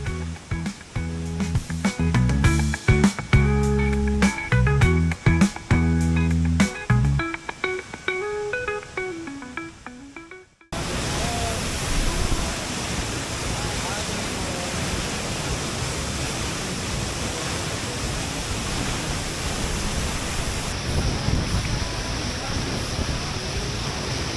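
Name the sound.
waterfall crashing water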